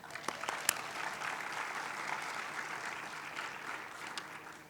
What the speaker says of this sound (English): they definitely deserve a round of applause for that.